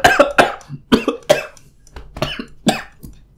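A person coughs harshly and repeatedly, around eight close, loud bursts in an uneven rhythm with brief pauses between them and no talking.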